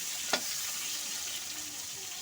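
Food frying in a pan makes a soft, even sizzle throughout, with one brief clink near the start and no voices.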